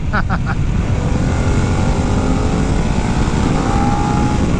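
Engine of a 2021 Harley-Davidson Pan America motorcycle carried through corners, a loud, steady drone with rising and falling pitch over constant wind rush, close and continuous with no talking.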